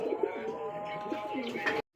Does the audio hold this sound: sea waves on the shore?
no